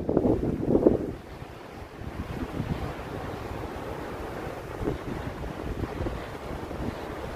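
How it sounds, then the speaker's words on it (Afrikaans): Strong wind rushes and buffets steadily on a beach at Palm Beach, KwaZulu-Natal, with a low surf-like roar underneath and gusts hitting the microphone. "Ek gaan nou die wind hoor."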